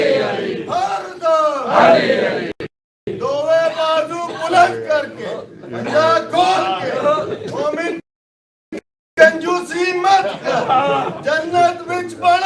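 A majlis congregation chants a religious slogan together in loud, rhythmic bursts of many voices, separated by brief pauses, close and forceful throughout.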